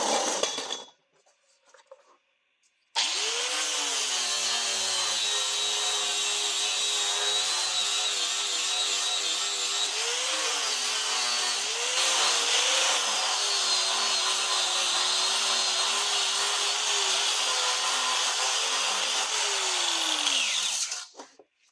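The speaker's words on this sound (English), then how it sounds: "here's pieces all welded up, ready to grind down flat" Angle grinder working welds flat on a steel Super Duty Dana 60 axle bracket, a steady loud whine running for about eighteen seconds with slight pitch dips as it bears down, after a brief quiet start.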